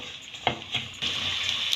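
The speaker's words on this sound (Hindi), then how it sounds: "अब ये सौंफ को हल्का भुनेंगे" Fennel seeds dry-roasting in a pan for homemade chaat masala give a soft, steady sizzle and rustle, with a few light scraping stirs over a constant hiss.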